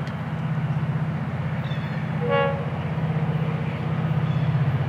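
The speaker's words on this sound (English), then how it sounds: "The unit train. FEC336." FEC336, a Florida East Coast freight unit train, passes with a steady low rumble and rhythmic wheel clatter, and a brief tonal horn-like squeal sounds midway.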